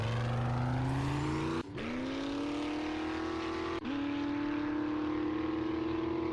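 A motorbike engine from the survival game 7 Days to Die accelerates hard, its droning pitch climbing steadily and dropping twice at gear shifts before rising again, loud and continuous.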